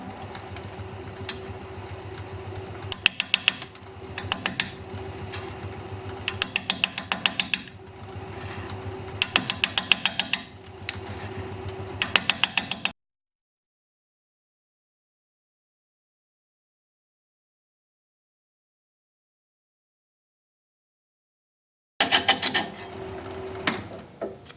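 A wood lathe spins dry olive wood at about 415 RPM as a 5/8 inch bowl gouge cuts, giving a steady whirring hum with rasping cutting bursts that cuts to silence midway and then resumes.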